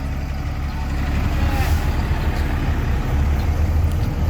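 A JUTC luxury express bus driving, a loud steady low engine rumble and road noise heard from inside.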